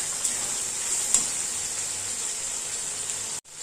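A ginger, garlic and chili paste sautés in a hot pan, giving a steady, even sizzle that stays constant before a brief cut near the end.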